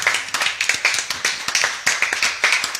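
A church congregation claps in praise of the Lord, fast rhythmic handclaps in a steady beat lasting a few seconds, close and crisp with no talking.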